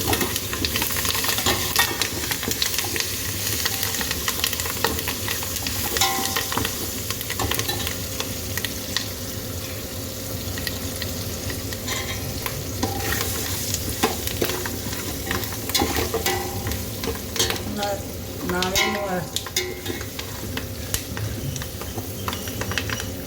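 Loud, steady sizzling of curry leaves dropped into hot tempering oil, crackling continuously with occasional stirring scrapes, close up.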